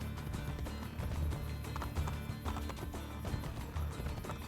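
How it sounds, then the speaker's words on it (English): Horse hooves gallop in Assassin's Creed Brotherhood, a steady, fast clip-clop rhythm that stays loud and continuous over a dense game soundscape, with no talk. "Wish this horse would run faster."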